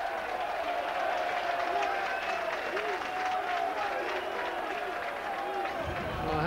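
A football crowd roars and chants steadily at the Lincoln City v Macclesfield 2005 play-off match, a dense wall of massed voices with jeering swells from the stands that never lets up, under a commentator's talk.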